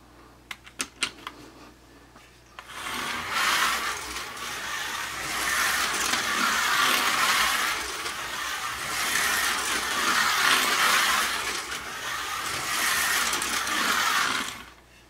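A Carrera C7R slot car, stock with no modifications, runs smoothly on a wooden track, a steady buzzing whir that holds for several seconds with slight swells as it laps, after a few faint clicks at the start.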